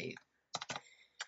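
A few faint keystrokes on a PC computer keyboard: one brief cluster, a short pause, then two quick clicks and a last single tap.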